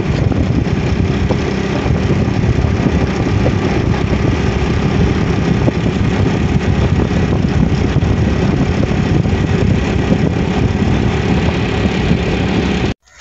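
Motorcycle engine idling steadily after a kick start, a loud, continuous low rumble close by that holds even throughout with no revving and cuts off abruptly at the end.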